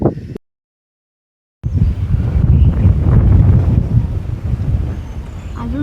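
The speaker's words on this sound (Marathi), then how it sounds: "मस्त वाराही सुटलाय" Wind gusting across an open rocky hillside above a village in Konkan, a loud rumbling buffet against the microphone after a short silent gap, steady and roaring to the end.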